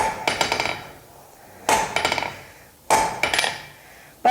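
Blacksmith forging a weld at a hot-metal demonstration, striking with a hammer: three bursts of rapid ringing blows, each a sharp loud strike followed by quicker lighter taps, with quiet gaps between and no speech.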